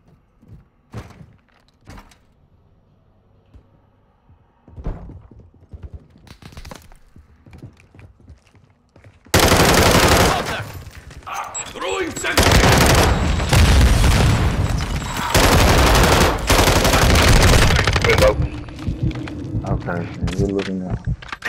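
A big machine gun in DMZ roars in long, heavy sustained bursts after a quieter stretch of scattered thuds and footsteps, loud and close, with people talking around it.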